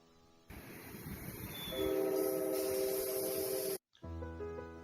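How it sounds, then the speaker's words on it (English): A New Jersey Transit electric commuter train rumbles past at Denville junction with a broad rushing hiss and a steady tonal whine building midway, then cuts off abruptly before a lower engine hum resumes. "this scene is a New Jersey Transit commuter train bound for New York City"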